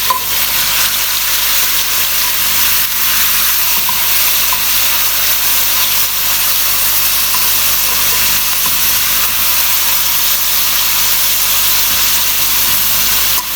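Chicken fries in a pan for spaghetti chow mein, giving a loud, steady, dense sizzle and hiss that holds evenly throughout with no talking.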